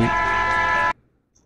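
A single loud, sustained bus horn blast in a Dhaka bus video game, roughly a second long, that cuts off abruptly into near silence.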